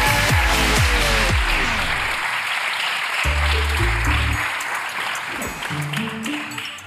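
A Turkish television game show studio audience applauds loudly and continuously while bright, punchy show music plays in stops and bursts over the clapping.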